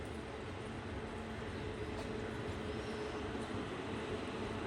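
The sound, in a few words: Talguppa–Mysuru Kuvempu Express train arriving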